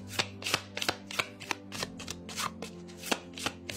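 Tarot cards are shuffled by hand, a rapid series of crisp riffling snaps and slaps in an uneven rhythm, close and fairly quiet, with no talking over it.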